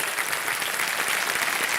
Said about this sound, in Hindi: सम्मान भरी तालियों के साथ स्वागत किया जाए